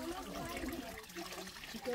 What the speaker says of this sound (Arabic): شوفوا هنا أكو مجرى، أكو هنا أعتقد منبع مع المي